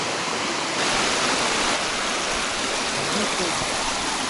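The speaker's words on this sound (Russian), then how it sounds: "Не, прикольно, да? Водопады красиво." Steady rushing roar of a waterfall flowing into a lake near Pechory and Izborsk, constant and broadband, with no breaks and nothing else standing out.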